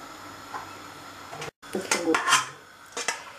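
A large 4.5-litre metal cooking pot clanks and scrapes a few times up close, with brief knocks and rattles while someone talks nearby.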